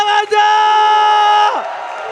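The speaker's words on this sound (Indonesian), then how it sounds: "mana tepuk tangannya?" An arena crowd at an RRQ Hoshi versus Bigetron Alpha esports match lets out a loud, sustained cheering roar with a tonal edge that breaks off and drops in pitch near the end, with some background noise continuing after.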